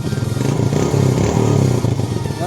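A Yamaha Jupiter Z motorcycle engine revs loudly and close by, its throttle rising and falling with a steady mechanical clatter running throughout.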